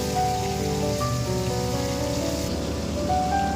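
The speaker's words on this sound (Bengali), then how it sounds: "সেই গরম তেলে মাছগুলো ছেড়ে দিয়ে ভালোভাবে ভেজে তুলতে হবে।" Rita fish sizzling as it fries in hot mustard oil in a pan, a dense steady crackle and hiss that holds unbroken throughout, close and fairly loud.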